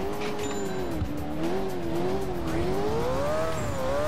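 Loud, continuous engine drone from a 1300 hp sports car in a racing video game, its pitch wavering up and down as it drives, with tire squeal mixed in.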